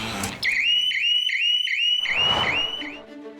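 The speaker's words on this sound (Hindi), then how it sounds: "10 मेंबर्स से बनी टीम डिजिटल सुरक्षा शॉप्स के लिए ऐसे शटर अलार्म्स बनाती है जो चोर के आते ही शोर मचाते हैं।" An electronic shop shutter alarm blares a loud, repeating chain of rising chirp tones that stop and restart several times over a few seconds, with no voices.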